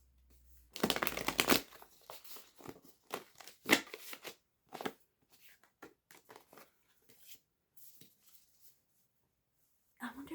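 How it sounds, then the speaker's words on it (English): A deck of tarot cards being shuffled close up, with a quick riffle burst followed by scattered soft card slides and taps, quiet and intermittent, and a brief murmur near the end. "Let me do my little shuffle."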